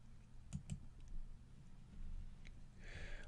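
A mouse click selecting an icon in a trading software interface, heard as a couple of faint, close clicks early on, with light keyboard-like tapping over quiet room noise.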